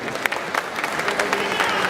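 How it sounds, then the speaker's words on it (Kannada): Audience at a Kannada film event for Krishnam Pranaya Sakhi breaking into loud, dense clapping for Raju, a brief continuous burst of many hands close by. "ಜೋರ್ ಚಪ್ಪಾಳೆ ಹೊಡಿಲೇಬೇಕು ನಾವು ರಾಜು ಅವರು"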